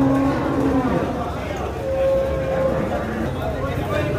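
Buffalo at a livestock market in Jagraon, giving a few deep moos close by, with a low murmur of people and market noise underneath.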